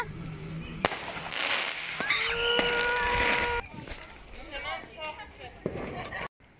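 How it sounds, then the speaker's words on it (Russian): Halloween fireworks in Ireland crackle and pop from a distance, with sharp bursts and whistling streaks, while people talk nearby over the outdoor din. "Тут у нас все небо озаряется, потому что пускают фейерверки"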